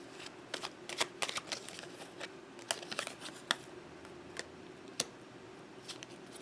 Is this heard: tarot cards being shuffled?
yes